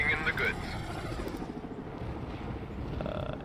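A helicopter in the war video game World in Conflict runs with a steady rhythmic rotor chop and mechanical whir, fairly quiet, while voices talk over it.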